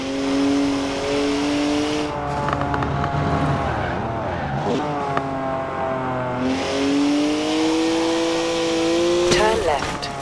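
A Mercedes 350D, a twin-turbo 3-litre straight six with 335 horsepower, is driven off-road in Forza Horizon 4. The engine repeatedly revs up and drops back through gear changes, with a voice speaking over it at times.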